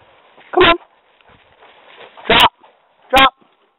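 A hunting dog on a late-season grouse hunt gives three sharp, close barks spaced a second or so apart against a quiet outdoor background.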